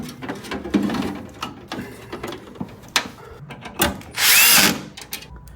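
A power screwdriver whirs in a short burst near the end while fitting screws on a computer board, after scattered clicks and small handling noises.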